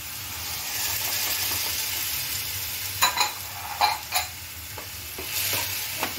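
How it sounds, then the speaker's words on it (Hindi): Onion and tomato puree sizzles and fries steadily in a pan on a low-oil stuffed bitter gourd recipe, with several sharp scraping stirs of a spoon breaking through the hiss near the end. "मैं ये 2 टमाटर का जो प्यूरी बनाई थी वो मैं डालूंगी इसमें।"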